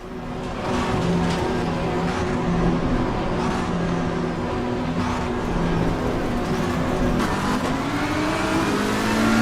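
Race car engine in Assetto Corsa Competizione roaring steadily at high revs through a launch, with a quick upshift to second gear breaking the continuous loud drone; close and alone, with no talk.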